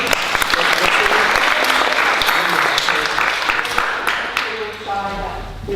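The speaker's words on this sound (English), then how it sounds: "Round of applause again." Sustained, loud applause from the audience at a forum theatre performance, dense clapping that holds steady and tapers slightly toward the end.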